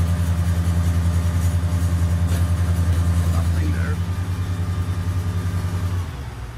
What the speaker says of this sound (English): Bit of a vibration from the grill there, just, but so that's on the starboard engine.